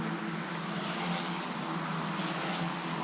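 Formula 4 race cars at Sepang circuit make a continuous engine drone that stays steady and moderately distant for the whole span.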